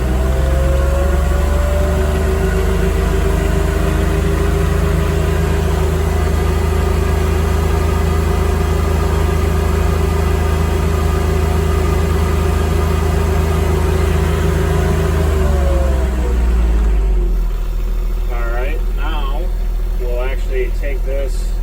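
John Deere 1025R compact tractor engine inside a Mauser cab, running loud and steady at high rated RPM with a dense drone, then spooling down near the end as a voice speaks.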